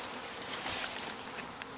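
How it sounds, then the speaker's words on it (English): Honey bees buzz in a dense, steady swarm drone as they return to their hive, close and continuous, with a brief sharper buzz passing near the end. "So now the bees are returning to the exact same spot, and instead of the dresser, they're finding the hive."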